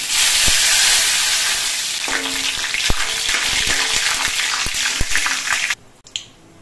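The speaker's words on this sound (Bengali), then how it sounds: "সর্ষে আর শুকনো লঙ্কাটা ভাজা হয়ে গেছে" Mustard seeds and dried red chillies fry in hot oil as a tempering for dal, a close, bright sizzle dotted with sharp pops and crackles that cuts off abruptly near the end.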